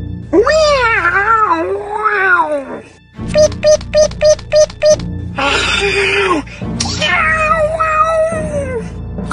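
A feral cat yowls in long, drawn-out meows, with a burst of short rhythmic tones and other voice-like sounds in between.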